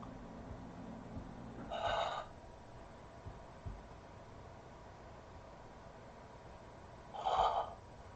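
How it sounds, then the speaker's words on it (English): Two forceful, breathy exhalations during a Pilates breathing exercise, about five seconds apart, each a short hissing rush of air over a quiet background with faint low hum. "Pull the stomach in as you breathe into the towel."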